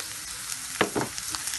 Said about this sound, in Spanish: Ya sofrita la cebolla, agregamos el cebollín.